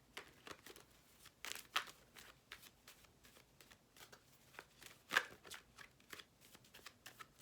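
Tarot cards from an original Rider-Waite deck shuffled by hand, giving soft, quiet riffling and crisp flicks in irregular bursts, with a couple of sharper snaps standing out, heard alone without talk.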